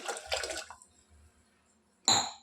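Water poured from a glass into toor dal in a cooking pot, two short watery gushes with a quiet pause between, close and clear.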